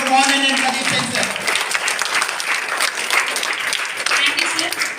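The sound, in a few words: audience applause for Dr. Mohan and Pradeep Sen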